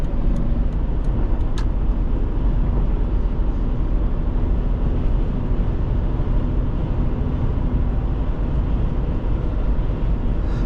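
Steady low engine drone and road rumble from inside a 2002 Mercedes-Benz ML320 with its V6 running while driving, constant and close with no talking.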